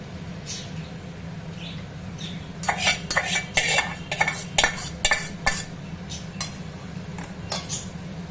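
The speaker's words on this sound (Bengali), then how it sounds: "এবারে আমি ওই সেদ্ধ করা মাংসটা কড়াটার মধ্যে ঢেলে দিই" Boiled mutton tipped into a kadai and stirred for mutton curry: a run of sharp metal spoon scrapes and clinks against the pan, close and moderately loud, over a steady low hum.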